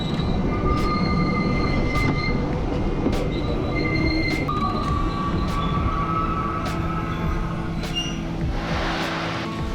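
The Ffestiniog Railway's narrow-gauge steam locomotive Merddin Emrys rumbles steadily along the line toward Porthmadog, loud and close, with wheels squealing and clattering over the tracks.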